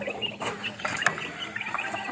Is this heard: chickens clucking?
yes